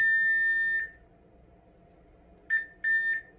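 A digital multimeter gives its continuity-test beep while probing a shorted circuit near a capacitor. One long, clear tone is followed by a pause, then a short chirp and another long beep, all close and clean against quiet background hiss.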